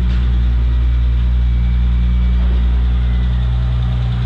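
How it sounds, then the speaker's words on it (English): A 2005 Bentley Continental GT bi-turbo W12 runs at a smooth, steady idle, a deep, even hum close by without pause or talk. "Bi-turbo, W12 under the hood, running smooth as it should."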